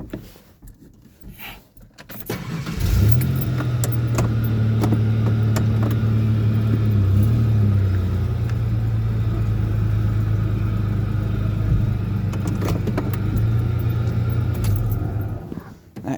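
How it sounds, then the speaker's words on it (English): A truck is driven slowly up toward a ramp during a refrigerator move: the engine fires up after a few seconds of ambient noise, then a steady close low rumble with a slight pitch wobble mid-way continues before easing off at the end. "I'm going to actually just pull the truck up a little bit"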